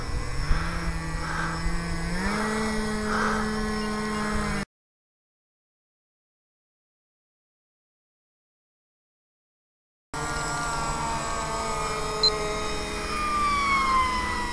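Homebrew quadcopter drone flying, a loud close buzzing motor whine whose pitch steps up and shifts with throttle changes, broken by a stretch of silence in the middle, with no talk.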